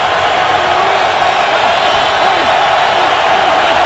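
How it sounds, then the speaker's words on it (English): Philadelphia Eagles home crowd at a 2013 NFL football game against the Chargers, a steady, dense stadium roar with a faint lift of cheering, loud and continuous throughout. "Now a little life in the Philadelphia crowd."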